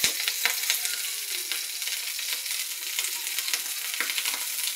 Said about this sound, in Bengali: তো আজকে আমি অন্যরকমভাবে কচু শাকটা ভাজি করব।